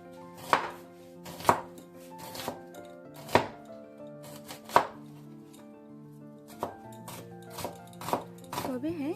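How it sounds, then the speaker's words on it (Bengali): A knife chops onions on a cutting board with sharp, evenly spaced, loud thuds about once a second, then a quicker burst of chops at the end, over a steady low hum. "এই পেঁয়াজ কাটতে গেলে"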